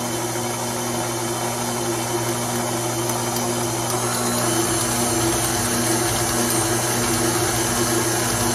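An electric whisk mixing powdered sugar into frosting for an Italian cream cake, a steady droning motor hum that holds even and continuous throughout, with no talking.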